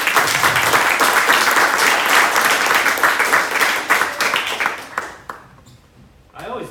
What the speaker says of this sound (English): I'd like to put your hands together for Andrew Despi